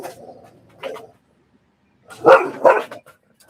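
The dog King barks at a tent flap during a camping trip in Croatia: a low growly bark, a short pause, then two loud close barks in quick succession.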